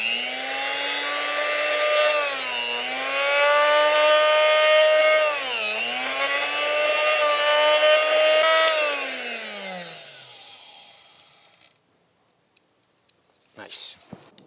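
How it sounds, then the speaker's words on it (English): A power drill with a sharp bit cuts into the metal door of a Ram Promaster van during window installation, a loud whining tone that dips under load several times, then winds down, followed by a short clatter. "Might as well start with the sharpest drill bit possible."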